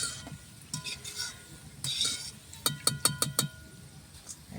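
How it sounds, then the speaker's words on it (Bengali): Potatoes frying in oil for chicken biryani, a soft sizzle under repeated spoon scrapes and metal clinks against the pan, ending in a quick run of five or six sharp taps near the end. "বিরিয়ানিতে আলু দেওয়ার জন্য আলুটা ভেজে নিচ্ছি।"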